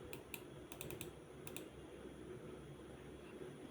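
Typing on a computer keyboard while entering a trading lot size for a forex prop-firm evaluation, with short bursts of clicky keystrokes in the first second and a half, then quieter low background hum.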